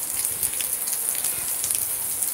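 Steady rain in Tarrafal on Santiago island, Cape Verde, a continuous close hiss of falling drops with faint irregular patters, no voices.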